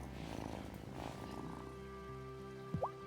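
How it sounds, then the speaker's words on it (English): A cat purrs in the video game Wylde Flowers, a soft, steady low rumble close up, with a brief chirpy game tone near the end. "Listen to that purr."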